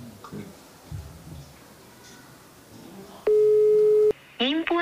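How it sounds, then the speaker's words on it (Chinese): An unanswered phone call to a construction manager sounds one steady ringback tone lasting under a second, preceded by quiet background and followed by a voice speaking. "冯先生拨打了施工负责人的电话"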